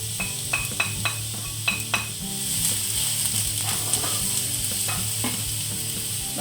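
Onion hits hot oil in a frying pan with garlic, bursting into a loud, steady sizzle after a few sharp clinks of a utensil against the pan, with stirring scrapes continuing.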